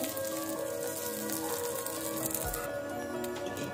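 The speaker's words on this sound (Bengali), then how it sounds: "ঘিটাকে একটু গরম করে নিয়ে আমি এখানে ভিজিয়ে রাখা কিছুটা চাল শুকিয়ে নিয়ে এখানে একটু ভেজে নেব" Soaked, dried rice fries in hot ghee in a pan, giving a steady, close crackling sizzle with fine popping, like light rain patter, and no talk.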